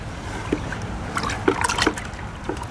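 A long stick stirs an indigo dye vat, producing soft close liquid swishes and trickling splashes in a slow back-and-forth rhythm over a steady background.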